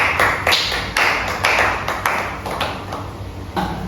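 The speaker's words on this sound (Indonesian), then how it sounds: "Tepuk tangan semuanya." Students in an Islamic education class clap their hands together in a rhythmic run of distinct, evenly spaced claps roughly every half second, fairly close and clear with no talking over them.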